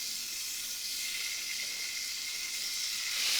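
Chicken livers sauté in a very hot pan heated to smoking, giving a steady, close, bright sizzle that holds evenly throughout with no talking.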